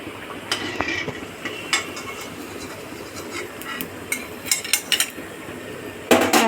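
Fried raw jackfruit puli lifted from a pan of hot oil, with scattered metallic clinks and scrapes of a utensil against the pan over a steady sizzling hiss, ending in a louder clatter.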